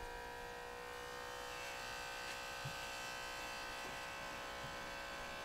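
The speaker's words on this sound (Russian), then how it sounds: "Я включаю Э, подсоединяю к аккумулятору. Насос включился." An electric oil extraction pump powered from a car battery runs steadily, drawing engine oil out through the dipstick tube with a constant faint buzzing whine and no talking.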